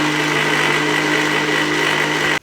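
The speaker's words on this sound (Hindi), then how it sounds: "बेसन को मैंने ग्राइंडर मशीन के अंदर इसलिए घोला" A grinder machine blends gram flour batter with a loud, steady, high-pitched motor whir that cuts off abruptly just before the end.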